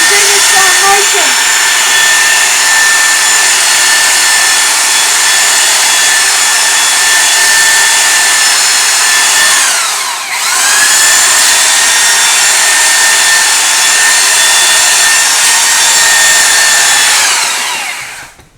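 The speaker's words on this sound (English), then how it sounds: "And that's the belt sander for today." A belt sander runs loud and close in a steady high-pitched whir for about seventeen seconds, dipping briefly midway as it loads against the work, then winding down at the end.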